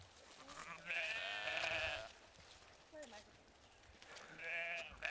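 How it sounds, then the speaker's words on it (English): Sheep bleat in a mixed farm flock with cows and goats, two long wavering calls and a shorter one in between, fairly close, with faint low background noise. "It is a mix of a flock of sheep and a herd of cows, and we also have some goats in here as well"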